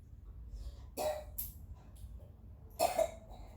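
A person coughs twice, short sharp bursts about two seconds apart, over a low steady background hum with no talking.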